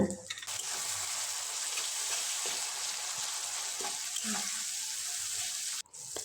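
Tomatoes fry in masala in a pan for mutton curry, with a continuous steady sizzle and occasional soft stirring sounds, ending with a brief clunk.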